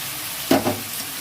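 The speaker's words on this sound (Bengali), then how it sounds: "আমার একটু সামান্য আনাজটা ভাজা হয়ে যাচ্ছে।" Vegetables fry in a pan with a steady broadband sizzle, broken by a brief stirring scrape about halfway through; close and moderately loud, with no voices.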